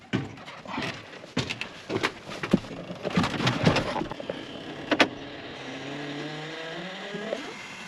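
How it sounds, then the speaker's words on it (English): An old tractor cranks after sitting unused for a month, uneven clanks and bursts from the starter, then catches and settles into a steady low idle with rising harmonic tones. "This tractor has not been started in about a month. Let's see if she fires up."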